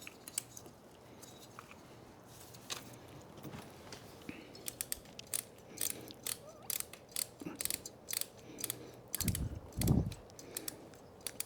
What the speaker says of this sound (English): This little Allen ratchet